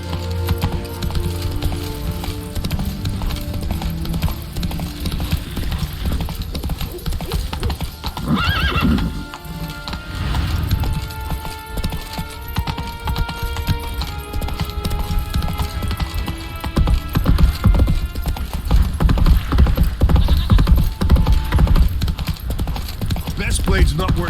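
Horse Roach from The Witcher 3 trots with steady clip-clop hoofbeats and gives a loud whinny partway through, set against a continuous bed of game music.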